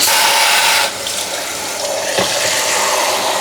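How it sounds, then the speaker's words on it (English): A few cups of water poured into a deep baking pan, a loud steady rush of splashing liquid that eases slightly after the first second and continues without speech. "and we'll layer in a layer of water here"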